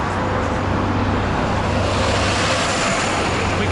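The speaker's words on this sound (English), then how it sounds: "There's an incredible traffic here," Heavy road traffic roars in a loud, constant wash near Morumbi metro station in São Paulo, with engines droning close by and no break in the noise.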